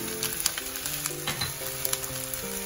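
Fried rice crackles and sizzles loudly in a pan as chopped ginger is tossed in, the steady hiss dotted with quick ticks from stirring; no one speaks.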